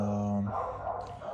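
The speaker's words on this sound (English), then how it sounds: "sorry if you hear the dogs outside" Dogs bark outside beside a garage where a BMW F34 320d GT is being repaired; a sustained tonal yelp-like sound is followed by short muffled barks, mixed with a nearby voice.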